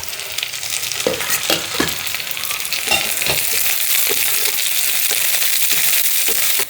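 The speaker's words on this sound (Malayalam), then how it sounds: "ചെറിയുള്ളിയൊക്കെ മൂത്ത് വന്നപ്പോൾ ഇതാ കറിവേപ്പില ഇട്ട് കൊടുത്തു." Shallots, curry leaves and dried chillies sizzle loudly in hot coconut oil for a tempering, a close and continuous frying hiss with crackles and the clinks of stirring.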